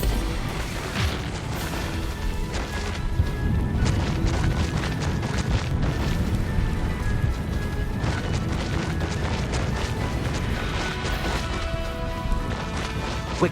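Expulso blasts from Hogwarts Legacy spellcasting erupt in a continuous barrage of loud crashing booms and impacts, dense and chaotic throughout with layered magical effects.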